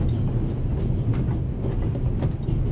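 A train runs on rails in The Raven video game, with a loud, continuous low rumble and faint, regular clicks of the wheels. No voices are present.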